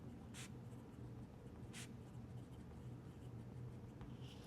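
A steel nib fountain pen writes tiny script on paper, making faint soft scratchy strokes with a couple of brief sharper scrapes over a quiet steady background hum.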